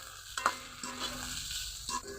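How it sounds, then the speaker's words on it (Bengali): Pointed gourd peels and dried fish fry in hot oil with a faint, continuous sizzle, broken by a few soft stirring clinks. "এখন ভেজে নিব"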